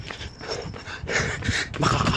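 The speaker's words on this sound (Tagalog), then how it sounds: "Oh, may aso doon." A dog pants and whimpers nearby, short breathy huffs repeating in quick rhythm.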